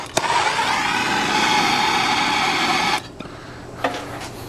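A gas torch hisses loudly and steadily for about three seconds while lighting lump charcoal, then cuts off abruptly, leaving faint background noise and a brief later clatter.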